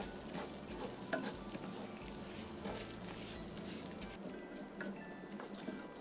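Risotto rice toasts in olive oil in a pan on a PK Go portable charcoal barbecue, giving a steady close sizzle with scraping stir sounds and no talking.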